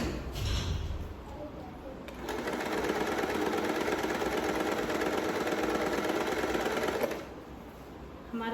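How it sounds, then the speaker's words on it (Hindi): A sewing machine runs along the fitting mark of a suit, a close, steady mechanical whir lasting several seconds after a short start, with faint background sounds before and after. "अब हम अपने जो हमारा फिटिंग का निशान है उसका हम सिलाई कर लेते हैं।"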